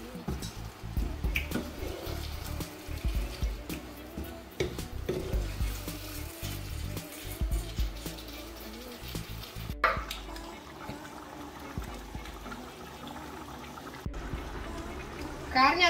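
Beef pieces frying in a pot for a Romanian beef stew, cooked over low heat with no water added, giving a steady sizzle with stirring and clattering while a person talks over it.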